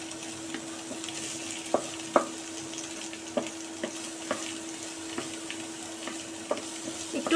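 A large, finely chopped onion sizzles steadily in hot oil left from frying potatoes, with a spatula scraping and tapping the pan at irregular intervals as it is stirred; no talking.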